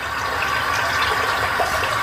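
Water runs steadily from a tap into a sink during a morning face-cleansing routine, a close, even rushing flow with no voices.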